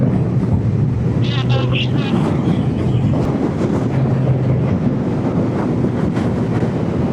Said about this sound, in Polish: A jeszcze ten wiatr zimny, zimny wiatr.